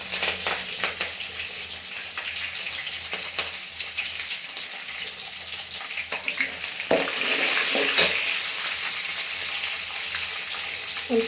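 Green chillies frying in a pan of hot oil for lemon rice, a steady broadband sizzle and crackle running throughout, close and fairly loud, with a brief louder burst partway through as more goes in.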